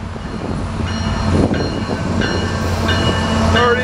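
Freight locomotives from CN and BNSF haul a southbound oil train on Union Pacific track, a loud, steady rumble of engines and rolling tank cars close by, with faint wheel squeals rising over the roar.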